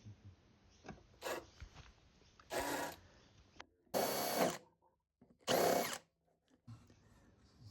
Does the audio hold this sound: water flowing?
no